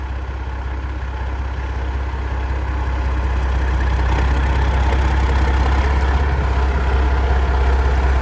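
A hood-stacked Peterbilt pull truck idles close by, its heavy engine holding a steady, low diesel rumble that swells slightly louder toward the end.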